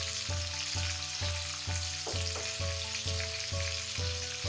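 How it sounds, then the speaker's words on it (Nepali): Soy sauce and ginger paste sizzle steadily in a hot pan while making chicken chili, a loud continuous frying hiss with a faint rhythmic stirring or scraping pulse underneath. "र यसमा मैले राखेँ 1 सानो चम्चा सोया सस"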